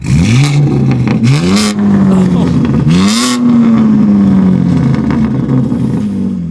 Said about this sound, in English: how about you give it a little gas. A catless with the single mid pipe